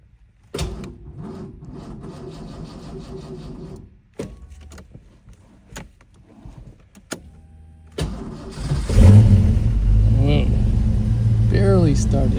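A car engine is jump-started with a Lokithor JA300 jump starter. After some clicks and shuffling, the starter cranks and the engine catches and settles into a loud, rumbling idle, with a voice speaking nearby.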